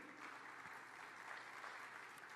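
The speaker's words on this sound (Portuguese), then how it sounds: "Um aplauso ao Espírito Santo" Church congregation at a youth service applauding in a steady, even wash of clapping that holds for the whole stretch, fairly distant and soft.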